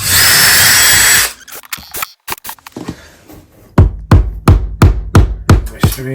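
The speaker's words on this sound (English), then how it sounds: "So I'm going to take a 1/8 drill bit." A power drill with a 1/8 inch bit whines loudly for about a second, then a string of sharp knocks and short bursts of drilling follow in uneven rhythm.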